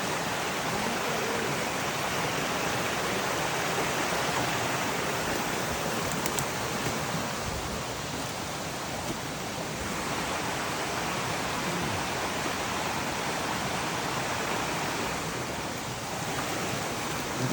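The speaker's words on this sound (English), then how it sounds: "I gotta see how the river is flowing." A river rushes past in the rain, a loud, broad, steady roar of flowing water that fills the whole scene without letting up.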